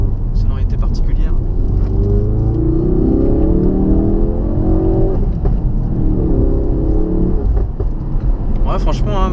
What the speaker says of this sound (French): ce 5 cylindres, sonorité particulière